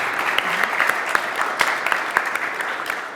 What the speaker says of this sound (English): a little applause, please